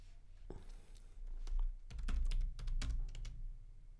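Someone types on a computer keyboard, with close, crisp keystrokes in irregular bursts and short pauses between them.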